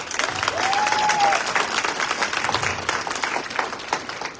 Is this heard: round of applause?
yes